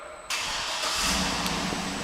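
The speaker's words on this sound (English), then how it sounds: "You press and hold this little circle here, and the car should start right up." A pearl white 2008 Cadillac Escalade fires up by remote start: after a brief quiet moment, the engine catches abruptly and settles into a loud, steady idle, with no talking.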